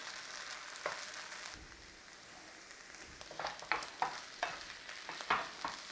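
Minced meat for a Scottish Highland pie cooking in a pan, with a low background sizzle broken by several sharp scraping stir strokes toward the end, quiet and close.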